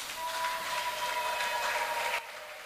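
A church congregation applauding and ululating: dense, sustained clapping and high trilling cries that fill the hall, loud and steady, then dropping away abruptly near the end.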